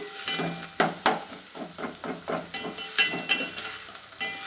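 Green chili and other ingredients for egg gravy sauté in a pan, with soft sizzling broken by repeated close taps and scrapes of a spoon stirring against the pan.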